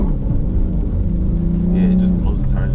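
Car engine revving hard while spinning its tires on a street, a steady loud rumble with rising whine and tire noise throughout, with talking over it.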